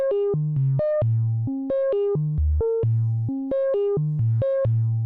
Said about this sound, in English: It sounds something like this from oscillator 2.